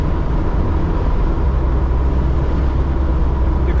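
A 1998 Jeep Wrangler fitted with a replacement transmission cruises along, giving a steady, loud low rumble of engine and road noise heard from inside, with no talking.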